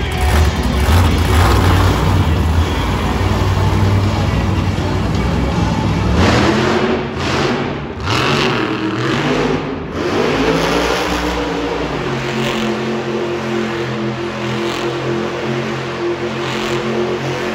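At a Monster Jam arena show in Toledo, a monster truck engine roars loud and continuous, rising and falling in pitch as it revs hard through donuts, with heavy crowd and arena noise around it.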